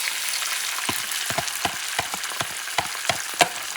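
Eggs fry in a pan with a constant bright sizzle, punctuated by irregular crisp pops and crackles about every half second, close and steady with no talking.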